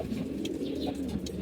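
Racing pigeons coo softly in a loft, a low continuous throaty murmur with faint chirps above it.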